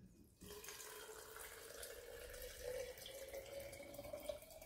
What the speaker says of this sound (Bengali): এখন এর মধ্যে জল দিয়ে দিতে হবে।